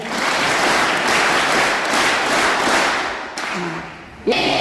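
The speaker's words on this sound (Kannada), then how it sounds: "ಗುಡ್ ಚಪ್ಪಾಳೆ ಹೊಡಿನಿ ನಿಮಗೆ" An audience claps at an indoor event on anti-drug and anti-trafficking awareness, with dense, loud, sustained applause that fades slightly before ending, and a voice breaking in near the end.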